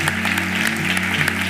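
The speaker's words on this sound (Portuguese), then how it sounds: "Vamos dar uma salva de palmas ao nosso Deus, Ele é digno de toda a honra" A church worship congregation claps in a brief burst of applause over sustained music.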